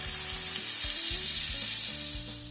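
Matambre sizzles steadily in a pan with lemon juice added, a constant bright frying hiss with faint low mechanical clicks underneath and no voices.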